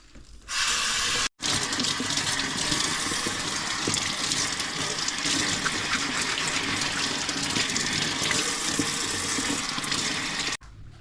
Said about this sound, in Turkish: asıl iş lahanayı tek tek bahçeden toplanan lahanayı tek tek yıkamaktır